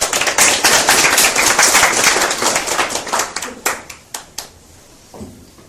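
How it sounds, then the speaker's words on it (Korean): Audience applause at a startup networking forum, dense loud clapping that holds for about three seconds, then thins into a few scattered, separate claps before fading out. "다시 한번 박수 부탁드릴게요."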